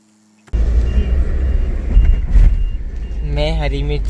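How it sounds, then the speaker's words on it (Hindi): A car engine fires up abruptly after near silence and keeps running with a loud close rumble, then a warbling tone sounds toward the end. "फिर गाड़ी स्टार्ट।"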